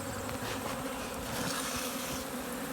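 Honey bees buzz around an open hive during a late-summer colony check, a dense, steady drone of many wings close to the microphone with no talking.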